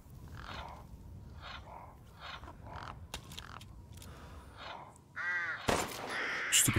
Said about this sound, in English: Stupid crow.